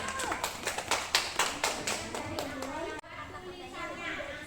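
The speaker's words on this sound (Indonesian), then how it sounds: "tepuk tangan dulu." Classroom children clap together in a run of about ten crisp, evenly spaced claps close by, with a voice over them. The clapping stops after about three seconds and speech carries on.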